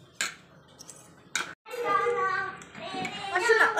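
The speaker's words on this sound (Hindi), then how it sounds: "तो ये देखिए चम्मच डाल दे रही हूँ" A spoon goes into a dish of halwa with two brief metallic clinks, followed by close talk and a voice.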